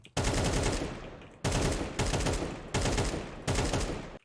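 Loud bursts of rapid automatic fire from an AK rifle in the new Counter-Strike game, four sustained volleys separated by short breaks, close and harsh.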